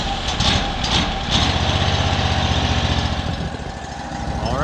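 A sawmill's small engine catching after the choke is pulled, then running at a steady loud drone with rapid firing pulses, close by and without speech.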